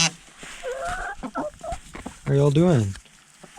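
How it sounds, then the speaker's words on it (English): Chickens cluck inside a winter coop, with a voice greeting viewers over them and a louder, rising cackle near the end. "So here are the chickens."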